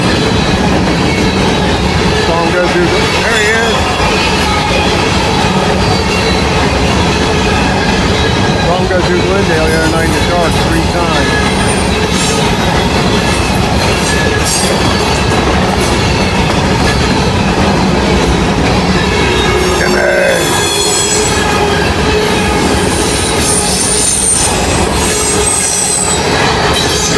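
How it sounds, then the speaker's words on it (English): A long grain train rolls steadily past on the rails, loud and close, with constant wheel rumble, clattering railcars and occasional high squeals throughout. "I knew with all these grain trains, sooner or later he'd have to show up."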